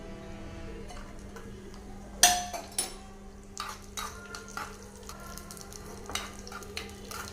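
Cashews and raisins frying in a pan, with a soft sizzle, a sharp metallic clank of a spoon against the pan, then scattered scraping stirring strokes over low steady hiss.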